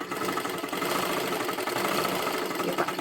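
A sewing machine stitches tucks on a blouse, running in a steady, dense mechanical whir with rapid regular needle clatter throughout, close and continuous without any talk.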